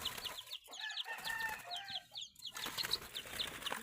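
Several Labuyo chickens cluck and chatter close by in quick, overlapping bursts, with a brief flutter of wings.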